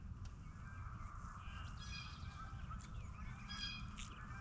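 Many geese honking in the distance over a steady low rumble of wind or traffic, calls rising and falling as the flock passes.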